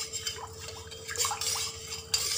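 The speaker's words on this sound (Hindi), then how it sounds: "अभी हम उसको अच्छे तरीके से मिक्स कर देंगे स्पून की मदद से।" A spoon stirs lemon water in a glass, giving soft scattered clinks and faint liquid swishes at close range, with no voices.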